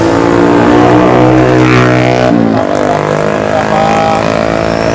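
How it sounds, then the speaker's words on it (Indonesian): Motorcycles pass along a road near the Ngelo crossroads with a gaping pothole, a loud, close engine drone whose pitch swells and shifts as the bikes go by, sounding continuously. "beberapa kendaraan motor melewati ini"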